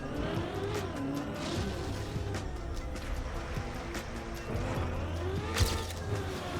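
In a racing video game, a car on wet tires drives over a wooden surface, its engine droning steadily with shifting pitch and a brief sharp knock near the end.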